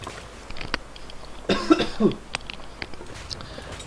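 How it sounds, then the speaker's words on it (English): A few harsh coughs close by, a couple of short bursts in quick succession against a quiet indoor background, from the video game The Long Dark. "I've still got this pretty horrible cough and sore throat"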